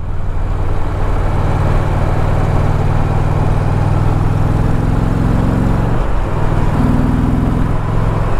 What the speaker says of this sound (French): Le son du moteur est vraiment agréable, ça tourne dans les graves.